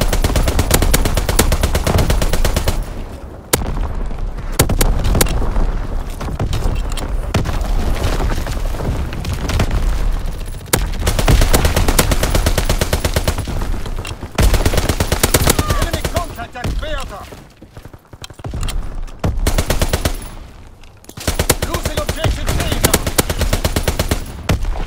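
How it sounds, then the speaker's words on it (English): Call of Duty: WWII multiplayer domination on the Shipment 1944 map, with loud nonstop machine-gun bursts, single gunshots and booming explosions, nearly continuous with a few brief lulls. "Firing primary battery."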